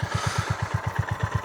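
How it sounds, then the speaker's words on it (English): An air-cooled 2025 Honda GB350S single-cylinder motorcycle idles steadily, a low, even thumping pulse about eight beats per second, moderately close with faint background hiss and no talking. "Very easy to handle, very simple, very gentle acceleration, air-cooled, simple engine."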